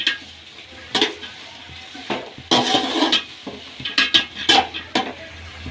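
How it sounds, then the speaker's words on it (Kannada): Chopped onions being stirred into a spicy mixture in a pan, with scraping and clinking of a spoon against metal in irregular bursts over a faint sizzle. "ಈಗ ಈರುಳ್ಳಿ ಸೇರಿಸ್ಕೊಳ್ಳೋಣ ಸಣ್ಣ ಸಣ್ಣಗೆ ಇಟ್ಕೊಂಡಿರೋಂಥ ಈರುಳ್ಳಿ ಈಗ ಮಿಕ್ಸ್ ಮಾಡ್ಕೊಳ್ಳೋಣ"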